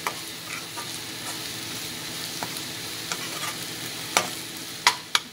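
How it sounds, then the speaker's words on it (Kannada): A spoonful of coriander powder fries in a pan while it is stirred for a baingan bharta, with a continuous gentle sizzle and a few sharp spoon clicks against the pan near the end, with no voices. "ಧನಿಯಾ ಪೌಡರ್ 1 ಸ್ಪೂನ್ ಹಾಕ್ತೀನಿ. ಸ್ವಲ್ಪ ಒಂದು ನಿಮಿಷ ಫ್ರೈ ಮಾಡ್ಕೊಳ್ಳೋಣ ಇದನ್ನು."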